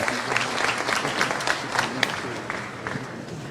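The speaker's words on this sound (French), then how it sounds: "Je vous laisse les applaudissements." Crowd applause at the Republican National Convention, a dense, moderately distant patter of many hands with occasional sharper claps, continuing evenly without speech.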